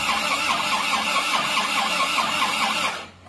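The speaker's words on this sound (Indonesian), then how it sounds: "Ya, kita starter lagi." A Panther pickup engine is cranked by the starter in a loud, steady, rapidly pulsing whir for about three seconds, then cuts off abruptly without catching.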